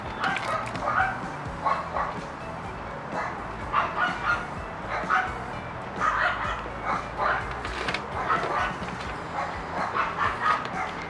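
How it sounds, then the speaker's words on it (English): Small dogs yapping repeatedly in quick, high bursts, somewhat distant, over a continuous background hum. "I apologize for the yapping little dogs."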